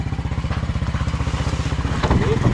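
Enduro motorcycle engine running close by, a steady rapid chugging pulse that swells slightly louder near the end, with no talking over it.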